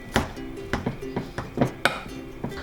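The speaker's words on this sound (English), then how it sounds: "Let's mash it until it's nice and smooth." Cooked sweet potato mashed in a bowl with a utensil for a Japanese sweet potato dessert: a series of soft, irregular knocks and scrapes against the dish, close and moderate, with faint background tones between strokes.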